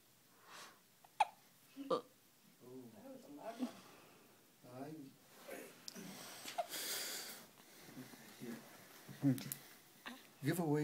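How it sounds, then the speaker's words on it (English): A child hiccups in short, sharp bursts spread irregularly through the stretch, with adults talking and cooing nearby between and over the hiccups. "Hiccups."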